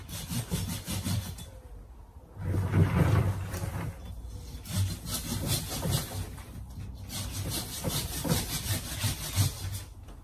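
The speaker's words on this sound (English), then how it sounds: "I'm always wary when I use these silky saws." A Silky pruning saw cuts through a trident maple bonsai branch. It makes a rhythmic rasping, back-and-forth sawing close up with steady strokes and a short pause near the start.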